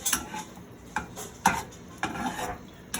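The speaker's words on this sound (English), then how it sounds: "you just want to stir that a little bit" Scrambled eggs being stirred in a pan on low heat: a utensil scrapes and taps against the pan in spaced strokes, with a faint sizzle underneath, close and clear.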